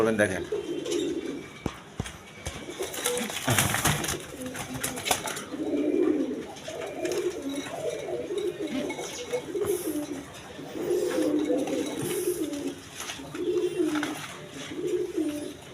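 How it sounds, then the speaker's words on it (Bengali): A pair of Rajgolla pigeons, a male and a female, give repeated low cooing phrases in steady bursts close by, while someone talks intermittently and occasional rustles and knocks break in. "এখানে এক পেয়ার রাজগোল্লা কবুতর আছে"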